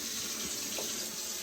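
Steady stream of water pouring into a pot of shrimp gumbo, a continuous close splashing hiss with no voices.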